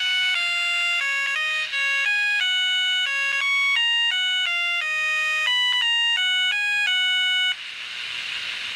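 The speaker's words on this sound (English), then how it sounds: "And so it acts like a burglar alarm." An Elenco Snap Circuits burglar alarm plays a loud electronic siren melody of rapidly stepping tones that cycles through once without pause, then cuts off to a quieter hiss.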